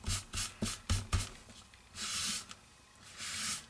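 A dry cloth rubs across a stamped watercolor image on paper, first in several short, quick strokes, then in two longer, steady swishes, close and quiet.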